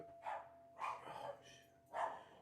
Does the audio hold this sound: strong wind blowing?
no